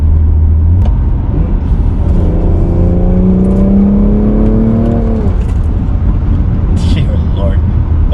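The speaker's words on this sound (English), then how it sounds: "this is still the Pure 800 turbo, so it'll spool fast." A BMW B58 engine with a Pure 800 turbo, running on E50 and methanol, accelerates under boost, its loud rising drone and turbo whir sweeping up for several seconds while a person talks nearby.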